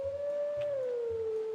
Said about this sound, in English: we just howl to start it